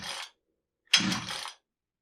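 A Jonsereds 70E chainsaw, sluggish and not firing, is drop-started by pull cord: two close, raspy ratcheting pulls, one short and one longer, with silence between and no engine catching.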